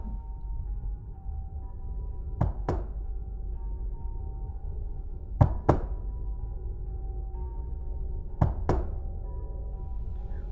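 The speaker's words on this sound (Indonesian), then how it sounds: "Tiba-tiba dia denger ada yang ngetuk pintu." Three pairs of sharp, odd knocks on a door, spaced evenly apart, break a quiet, humming room with nothing else happening.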